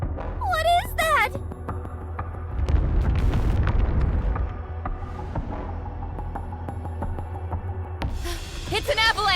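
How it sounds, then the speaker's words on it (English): A deep booming rumble rolls in and swells from an avalanche in the Nikke: Goddess of Victory game, with excited voices at the start and end. "It's an avalanche!"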